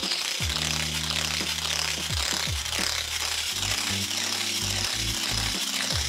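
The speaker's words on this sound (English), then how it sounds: "The noise level was louder than I would prefer to have in a smart hoop." A cheap weighted smart hula hoop with its ball spinning around the track gives a steady, loud, grinding rattle that runs without a break, with shifting mechanical tones underneath.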